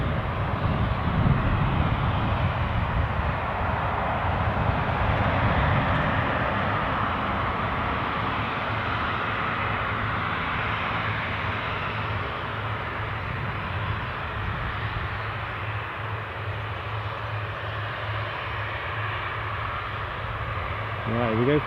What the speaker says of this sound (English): I'm just going to take a little bit of this taxiing Jetstream 41